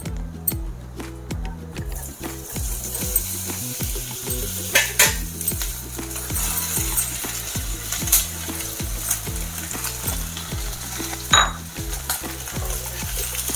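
Small slices of snake gourd fry in ghee in a pan, a continuous sizzle broken by repeated, rhythmic scrapes and clinks of a spoon stirring against the pan.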